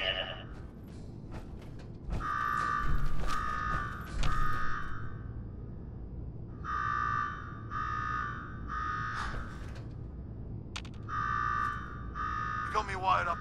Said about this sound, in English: Now go shut off that damn alarm.